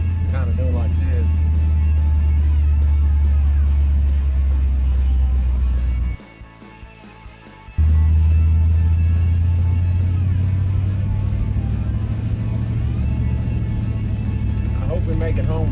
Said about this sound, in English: Plus we got a vibration coming from one of the rear tires.